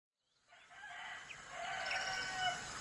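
A rooster crows with a long, drawn-out call in a narrated story, fairly close and clear, with faint farmyard noise behind it and no talking.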